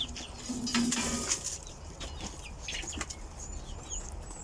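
Chickens cluck and peck close by, with soft scratching and rustling and a brief higher call among scattered clucks.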